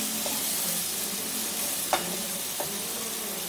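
Raw mango curry in mustard sauce is stirred in a pan over a soft, steady sizzle, with a few distinct scraping spoon strokes nearby.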